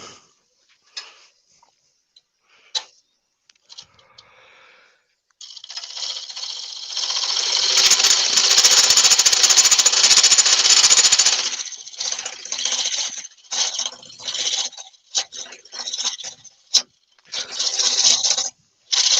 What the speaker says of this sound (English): This is the Sorby Sovereign hollowing system.